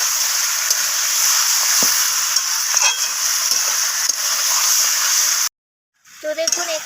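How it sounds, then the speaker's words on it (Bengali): Chicken frying in a pan with onion and tomato while being stirred constantly: a steady, close sizzle and hiss that stops abruptly before a few faint clinks. "এখানে মাংসটাকে আমি পেঁয়াজ আর টমেটোর সাথে অনবরত এইভাবে নাড়াচাড়া করে পেঁয়াজটাকে আর টমেটোটাকে মাংসের সাথে ভেজে নিচ্ছি"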